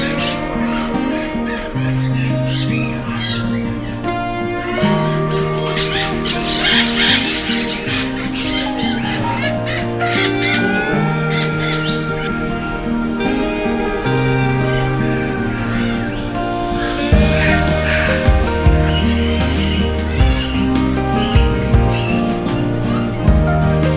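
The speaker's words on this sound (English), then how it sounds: "now we are going to enter into a very colourful paradise and also a noisy one," A crowd of parrots in the Parrot Paradise aviary at Jurong Bird Park squawks and shrieks continuously, loud and dense, with many overlapping harsh calls near and far.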